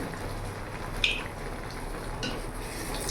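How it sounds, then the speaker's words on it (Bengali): Malpua batter fries in hot oil, a steady soft sizzle and bubbling with a faint utensil clink partway through. "এইভাবে করে আমি ভেজে নেব।"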